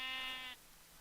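A sheep in a video game lets out one clear, close bleat as it is being killed, lasting about half a second before cutting off to quiet room tone.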